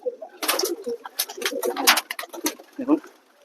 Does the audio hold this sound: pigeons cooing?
yes